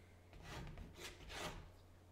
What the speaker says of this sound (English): I'm actually going to scrape a little bit in here